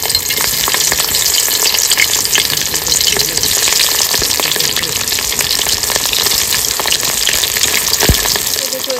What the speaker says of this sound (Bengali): এবার তেল দিয়ে ভেজে নেবো সর্ষের তেল দিয়ে ভাজবো